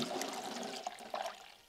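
Antifreeze poured into a Ford 460 big block engine during an Edelbrock intake reseal, a quiet continuous trickle with small glugging bursts partway through.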